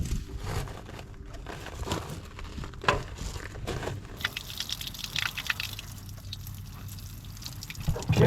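Water runs from a hose in a greenhouse, a soft uneven trickle and splatter with a few drips and bumps, quiet and close, growing busier partway through.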